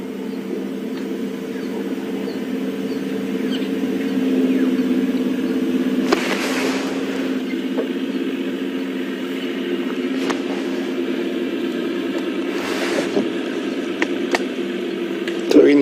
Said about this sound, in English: So we can hear the other safari vehicle approaching now.